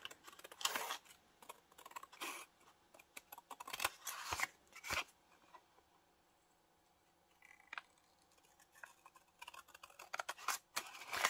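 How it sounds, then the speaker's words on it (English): Scissors snip through paper and fabric while a cowgirl-themed junk journal belly band is made, a few quiet separate cutting bursts with pauses and faint handling noise between them. "I'm going to cut this down."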